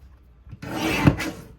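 Paper trimmer blade sliding across cardstock for a card kit, a single close rasping cut lasting under a second with a small click in the middle, no voices.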